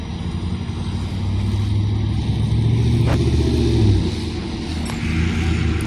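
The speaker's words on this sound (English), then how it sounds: "Oh, look, the fire truck is leaving now" A fire truck pulls away from a car accident scene, its engine rumbling and revving up moderately close, building to a peak before easing off.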